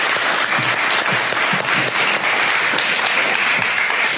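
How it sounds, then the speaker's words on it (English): Sustained, dense applause from a room of people for Nico, a loud even wash of clapping throughout with no pauses. "can we just give a huge round of applause to Nico?"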